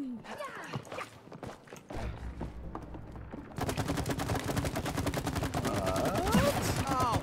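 Rapid, dense bursts of gunfire and blasts keep going in the It Takes Two video game, with shots clattering in quick succession and a heavy, sustained barrage in the second half, mixed with other game effects and people talking.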